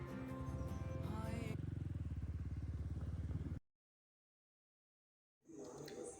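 A Royal Enfield Bullet motorcycle thumps along on a ride to Kankavli, its loud, close engine pulsing in a steady beat. It cuts off into a couple of seconds of silence, then returns briefly.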